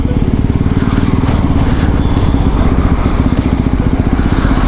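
A KTM 390 Adventure single-cylinder motorcycle engine runs at very low RPM, a steady close, loud, rapid thumping idle with no speech.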